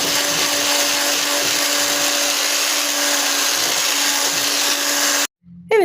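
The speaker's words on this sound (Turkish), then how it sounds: "Ben buna tekrar un ekleyeceğim ve tekrar çırpacağım" An electric mixer whisks cake batter with added flour, a steady loud whirring drone that runs continuously and cuts off abruptly near the end.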